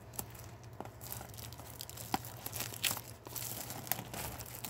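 Plastic wrapping on a Magic: The Gathering Ikoria draft booster box crinkles and tears in quick, uneven bursts, close and fairly quiet over a steady low background hum.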